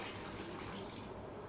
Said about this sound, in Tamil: அதனால் நான் கொஞ்சமாக தான் தண்ணி சேர்க்குறேன்.